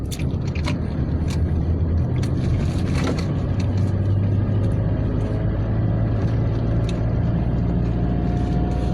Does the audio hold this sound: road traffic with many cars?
yes